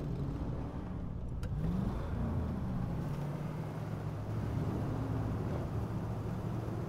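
A truck engine in the off-road driving game SnowRunner idles and hums at a steady low pitch, with a brief rise in revs near the start, continuous and fairly quiet with no voices.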